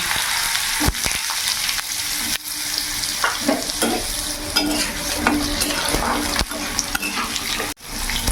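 Long-cut potato slices hit hot oil with tempered spices in a pan, giving a loud, close, steady sizzle broken by repeated scraping and stirring strokes, with no talking.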